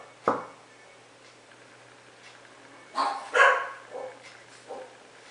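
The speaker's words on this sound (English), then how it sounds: "Well, except for some dogs barking and the neighbor's dogs." Neighbourhood dogs bark outside a dark house with a gravel path: a sharp single bark, a long quiet gap, then a cluster of several barks and yips, all somewhat distant and moderately faint.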